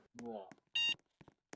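A short, sharp electronic beep sounds from a video game in a murderer-versus-bank-robbery match, a single tone sandwiched between bits of a player's speech.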